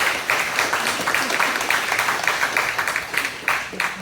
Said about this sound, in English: Can we give another round of applause for Tina?